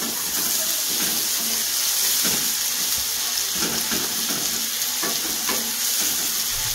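Onions frying in a pan for egg tadka, a steady loud sizzle with intermittent stirring scrapes, close up with no voices.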